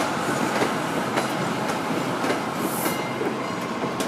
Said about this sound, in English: the Amtrak Downeaster's leaving soon